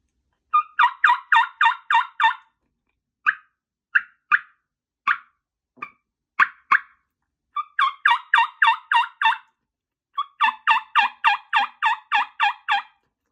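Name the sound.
turkey mouth call imitating gobbles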